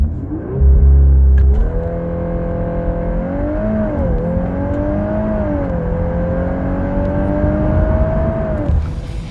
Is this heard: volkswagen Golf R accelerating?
yes